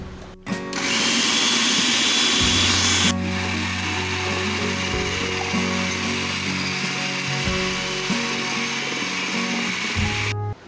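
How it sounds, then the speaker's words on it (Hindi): Kitchen grinder blending seekh kabab meat with mint and green chillies, starting with a loud whirring motor that runs steadily for about ten seconds with shifting tone as the mix churns, then stops. "अब जो है मैं इसको करूँगी यहाँ पे अच्छा सा ग्राइंड।"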